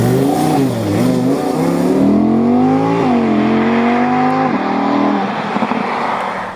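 An Audi R8 in performance mode with traction control off revs hard, its engine note climbing and dropping through several loud, rising sweeps that stay close and continuous, with no talking.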